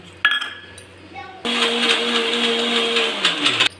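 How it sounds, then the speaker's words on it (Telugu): A mixer grinder whirs loudly and steadily as it grinds cashew nuts with jaggery into a fine powder for a no-cook sweet, starting abruptly after a few light clinks and running for about two seconds before stopping. "ఇప్పుడైతే ఇందులో జీడిపప్పు కూడా వేసేసి ఒకసారి మళ్ళీ గ్రైండ్ చేసుకొని చేద్దాము"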